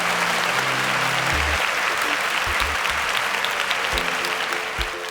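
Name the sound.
applause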